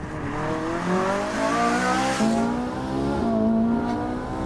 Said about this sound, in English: It's also tuned to produce a much sharper and better engine noise.